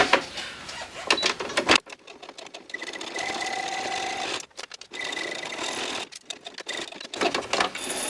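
A sewing machine stitches a fabric envelope in bursts, its rapid needle chatter running loud and close, then halting and restarting several times with brief quiet gaps between runs.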